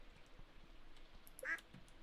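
Ducks on a Stardew Valley farm give a single faint quack amid soft farm ambience, with small chirps and clicks around it.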